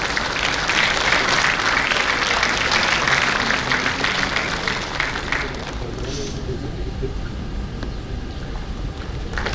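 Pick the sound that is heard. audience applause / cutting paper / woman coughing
audience applause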